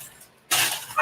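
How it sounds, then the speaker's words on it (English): A dachshund lets out a short, sharp bark indoors, close and fairly loud after a brief quiet moment. "The dog that is barking is his younger brother, Dobby. He is a dash hound."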